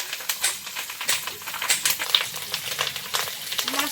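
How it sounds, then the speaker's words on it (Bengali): Pieces of rohu fish crackle and spit in hot oil for a Bengali curry, a close, busy sizzle of rapid popping bursts with little or no talking. "মাছটা দিয়ে দিচ্ছি তেলের মধ্যে।"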